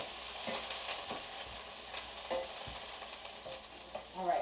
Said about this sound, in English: we're going to give that a quick stir